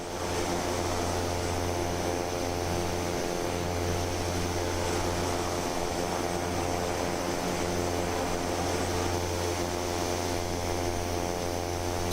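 Cessna Caravan turboprop (Black Square Caravan Pro) in Microsoft Flight Simulator 2024 drones continuously, a steady, even propeller and engine hum with no change in level and no talking.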